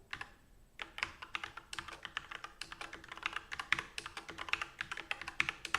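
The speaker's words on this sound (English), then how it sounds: "I'm just going to type all this" Rapid, irregular keystrokes on a computer keyboard during a late-night programming session, close and crisp, with bursts of clicks and short pauses.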